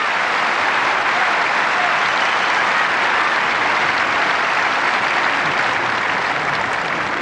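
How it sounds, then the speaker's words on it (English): Wimbledon Centre Court crowd at the 1983 men's singles final, applauding and cheering the New Zealand finalist's entrance; a loud, continuous wash of clapping from a large stadium audience that holds steady throughout. "tremendous cheer for the 26-year-old New Zealander."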